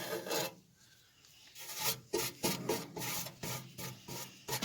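Ash is scraped out of the fire pot of a Pit Boss pellet grill in short, close rasping strokes of metal on metal, several bursts separated by brief pauses, with no voices.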